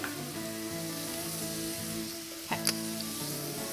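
Vegetables seasoned with pepper and salt sizzle steadily in a hot pan, a constant soft frying hiss over a low hum, with a brief clink of a utensil midway.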